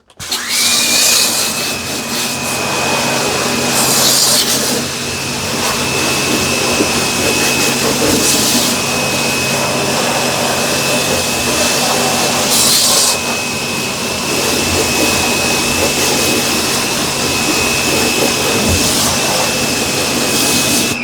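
A spray washer steadily cleans a Samsung Windfree wall-mounted air conditioner near its step motor and drain, giving a loud, constant hissing and motor drone with a steady whine throughout and a few brief surges.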